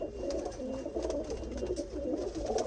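Pigeons kept for sale coo repeatedly nearby, overlapping soft rolling calls in an uneven rhythm against a low hum of background noise, with no one talking.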